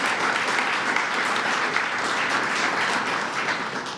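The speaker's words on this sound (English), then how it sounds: "So let's give Kevin Law a round of applause as well." Sustained applause from a crowd, dense steady clapping that fills the whole stretch without letting up.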